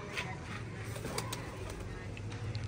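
Soft, low pigeon cooing from racing pigeons at a pigeon club, repeated throughout against faint background noise, with brief bird sounds and quiet murmur nearby.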